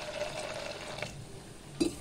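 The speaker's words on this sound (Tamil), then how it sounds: "இப்போ மொச்சை பயிர் மூழ்கிற அளவுக்கு தண்ணி சேர்த்துக்கலாம்." Water poured into a pressure cooker over lima beans, a short soft pouring and filling sound close by, ending with a brief louder splash or knock.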